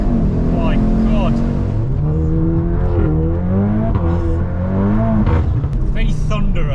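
An Audi RS3 8Y accelerating hard: a loud, deep engine note climbing in pitch through several gear changes, continuous and close, with a voice speaking over it.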